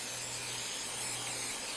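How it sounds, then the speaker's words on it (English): Non-stick cooking spray misted from an aerosol can into a muffin pan, a soft continuous hiss close to the microphone, quiet and without talk. "I'm just going to spray mine today with one of these non-stick sprays."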